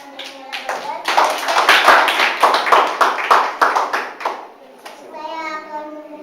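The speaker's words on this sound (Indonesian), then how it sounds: "Baik, tepuk tangan buat Ibu dosen Angelina Robert." Audience at an academic lecture applauds a female lecturer: a burst of clapping from a room of people, close and lively, running several seconds before fading as a voice begins to speak.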